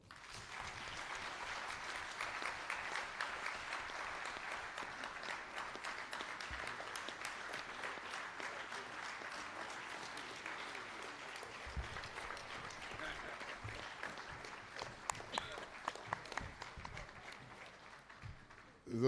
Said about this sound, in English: Those points are compelling enough to deserve the kind of applause it got.